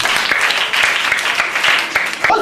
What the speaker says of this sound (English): Clap yourself.